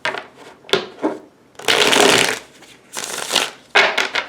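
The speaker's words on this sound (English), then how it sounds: "I will be shuffling these cards." A tarot card deck being shuffled by hand in several separate bursts, riffling and sliding cards at close range, with brief quiet gaps between passes and no talking.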